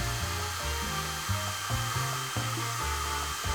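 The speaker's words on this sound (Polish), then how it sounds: "Teraz bierzemy suszarkę i powoli dmuchamy na fale, które zrobiliśmy." A hair dryer blows steadily onto poured epoxy resin waves, a loud, close, continuous whoosh with a low motor hum that shifts in pitch every half second or so as the airflow moves, with no talking.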